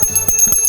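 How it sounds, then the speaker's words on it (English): Puja bells ringing in a Hindu worship setting, several metallic strokes in quick succession with bright, sustained ringing overtones, close and fairly loud, no voices. "When we do the puja, we ring more than one bell."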